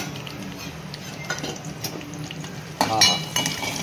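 Green chilies, curry leaves and coconut milk stirred in a pan for a white rassa curry: steady scraping and soft sizzling, with a sharper clatter of the spoon against the pan near the end.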